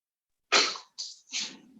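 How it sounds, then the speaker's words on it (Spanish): A lecturer in a tax seminar breaks into a coughing fit: three harsh, close bursts in under two seconds, the first the loudest, the last trailing into a rough breath. "Espérenme un poquito, un ataque de tos,"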